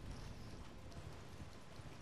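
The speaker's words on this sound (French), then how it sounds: "on va prendre son petit cheval" Rhythmic hoofbeats of a horse galloping in Elden Ring, an even, quick clip-clop pattern throughout, soft and moderately close over a low game ambience.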